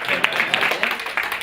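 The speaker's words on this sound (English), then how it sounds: "everyone give a round of applause for Michael" An audience briefly applauds a man called Michael as he comes up to speak at an open-mic style event, a short burst of dense clapping with some voices mixed in.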